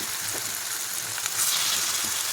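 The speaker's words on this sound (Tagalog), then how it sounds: "lalagay ko na yung beef saka yung atay" Marinated beef and liver for Ilocano igado hit a hot pan, giving a steady, close, dense sizzle throughout.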